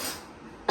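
A single short, soft cough after eating spicy homemade chutney, brief and fairly quiet, with a sharper burst at the very end.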